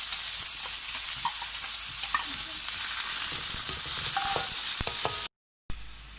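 Chopped onions frying in a pan for pepper chicken, a steady bright sizzle close by with occasional stirring clicks, running evenly until a brief silent gap near the end before the sizzle resumes.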